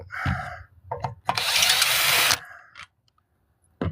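A power drill spins a bolt off a minibike in one loud, steady whir lasting about a second, with brief mechanical clicks before and after.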